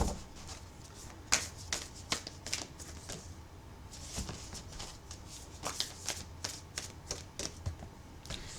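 A deck of oracle cards is shuffled up close, with repeated crisp riffling bursts and sharp card taps in an irregular rhythm against a quiet room background.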